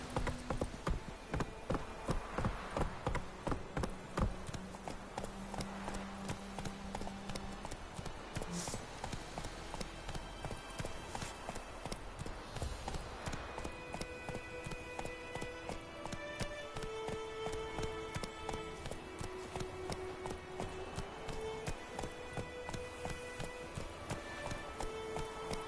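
Hooves of a galloping horse in The Witcher 3 pound in a fast, steady clip-clop rhythm that runs unbroken and close, with in-game ambience underneath and no talk.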